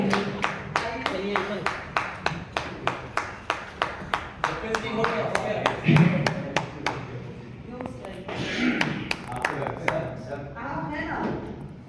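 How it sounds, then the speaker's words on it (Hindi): Conference audience claps in a strong, regular rhythm, sharp hand claps repeating about twice a second, then loosening into scattered applause while people talk and call out over it. "एक बार जोरदार तालियां पांडे जी के लिए"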